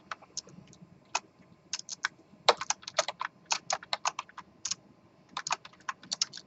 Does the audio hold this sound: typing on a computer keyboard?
yes